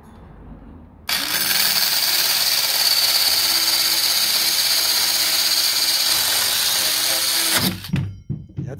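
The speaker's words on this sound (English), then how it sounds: "Think about a wee saw like this, you can actually plunge down in the middle." A small power saw starts abruptly and whines loudly and steadily through a cut for about six seconds, then winds down and stops, close up with no talking.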